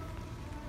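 Steady rain falls on a J-League football stadium in Hiroshima with mountains and fog behind it, making a dense, even hiss of drops with no break.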